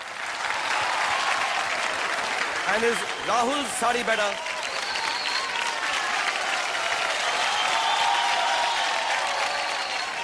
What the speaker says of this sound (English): Everyone, clap for Dada.